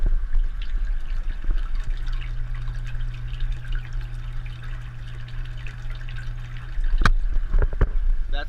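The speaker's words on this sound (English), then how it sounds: "That's where all my water returns, and that also creates some aeration as well" Water returning into an aquaponics fish tank under a deck, a steady trickling and dripping splash at close range with a low hum and a few sharp knocks near the end.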